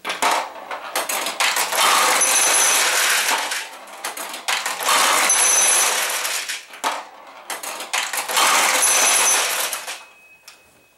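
A Sanyo pachinko machine running balls, with three dense bursts of rattling, clattering metal balls that each last a couple of seconds and are separated by short pauses, loud and close with no talking.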